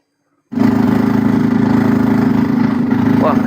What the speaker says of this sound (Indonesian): bunyi traktor